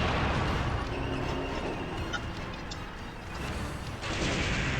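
Rapid quick-fire cannon blasts from a tank in the game Ninja Gaiden Sigma form a dense, continuous barrage of loud booms and rumble with no pauses.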